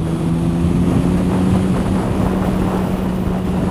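Loud and close, a Triumph Sprint 1050 fitted with a Trident exhaust holds a constant engine drone while riding, a low steady tone buried under strong wind roar.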